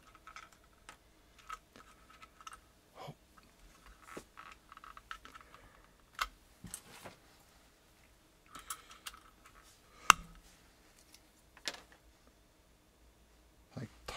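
Keystrokes on a Tex Yoda II keyboard fitted with MX Silent Red switches and poor keycaps, soft irregular clacks in scattered bursts, close and fairly quiet, with a few sharper taps and murmured talk in between.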